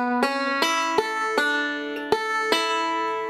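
Picked banjo fill on the fifth and first strings in the bluegrass tune Salt Creek, six or seven bright plucks in a steady, slightly uneven rhythm, each note ringing into the next, close and solo.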